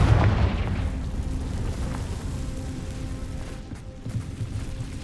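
Spell blast in the video game Hogwarts Legacy: a loud, rumbling low boom that swells at the start, then trails into a sustained roaring wash of debris-like noise with no talk.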